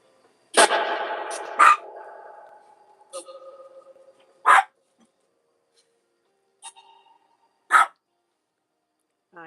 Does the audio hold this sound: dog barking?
yes